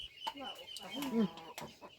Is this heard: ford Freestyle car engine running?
no